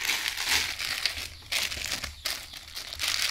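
Plastic parcel packaging crinkles and crackles in several bursts as a package is opened close by, with short pauses between the rustling handfuls.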